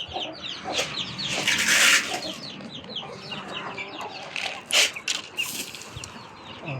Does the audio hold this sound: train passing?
no